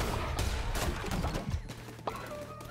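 Rapid bursts of gunfire from a Cult of the Lamb-style action game, shots fired repeatedly at other characters, dense and continuous with a brief dip partway through, no talking.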